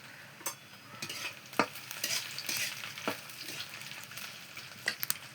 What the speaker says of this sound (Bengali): দারচিনি, এইগুলা কি? তেজপাতা, সরি, এলাচ, লবঙ্গ, গোলমরিচ এখন বেজে নিবা।